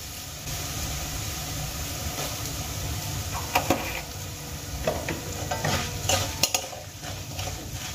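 Ginger and asafoetida sizzle steadily in a hot pan of oil for spiced potato curry, a close constant frying hiss punctuated by several sharp scraping stirs and clinks from about the middle onward.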